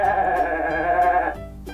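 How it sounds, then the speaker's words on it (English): A goat bleats in a single sustained, wavering call held close and loud for over a second, then a softer trailing tail, with no talk over it. "What noise does a goat make?"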